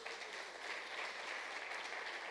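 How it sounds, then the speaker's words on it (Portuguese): A church congregation applauds in praise of the Lord, a steady, even wash of clapping that sounds somewhat distant and soft, with no voices over it. "Vamos aplaudir o Senhor, amém, amados?"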